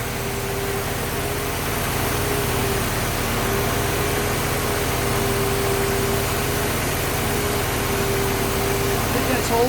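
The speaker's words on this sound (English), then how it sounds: "fans are spinning already" Car radiator cooling fans spin steadily beside an idling engine during cooling system testing, a continuous whirring drone with a low engine hum underneath, close and even throughout.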